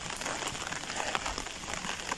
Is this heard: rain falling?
yes